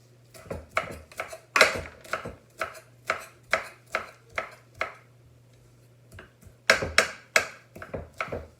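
Eggplant parmesan ingredients being roughly chopped with a knife on a board, a close series of crisp, fairly even chops in two bursts separated by a short pause, over a low steady hum, with no voices.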